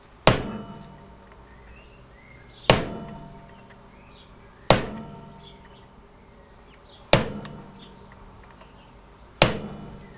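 A hammer peens a part on the front drum brakes of a classic Fiat 500, delivering five sharp metallic strikes at roughly two-second intervals, each ringing briefly before fading.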